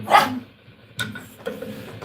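Dog barking, a sharp bark close to the microphone followed by two shorter, fainter yips spaced about half a second apart, with no talking.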